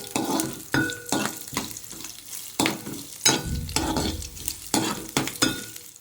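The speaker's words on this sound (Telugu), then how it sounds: "బాగా మిక్స్ చేసుకోవాలి బ్రౌన్ కలర్ వచ్చే వరకు మిక్స్ చేసుకుంటే సరిపోతుంది" A bottle gourd peel mixture with sesame is stir-fried until brown, heard as repeated rhythmic spatula scrapes and knocks against the pan over a low continuous sizzle, fairly close.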